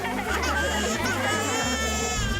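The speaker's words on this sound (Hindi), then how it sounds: "रोने की आवाज कहाँ से आ रही है?" A baby or young child cries loudly and continuously, close by and alone, with a steady wailing tone.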